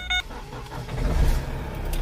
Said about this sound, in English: Okay, so we're gonna start the car right now.